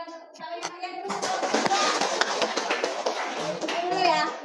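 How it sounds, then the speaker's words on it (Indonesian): Classroom children clapping after a group presentation, starting with a voice alone, then a burst of many small hands applauding, steady and lively, with kids' voices mixed in. "Ayo berikan tepuk tangan yang kalian"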